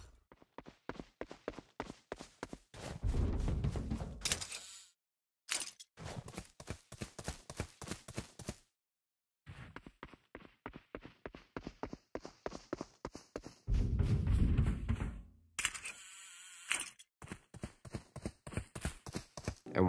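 Footsteps in the video game Warzone thud in quick, regular runs of close, crisp steps, broken by a few louder heavy bursts and short silent gaps, with no talking.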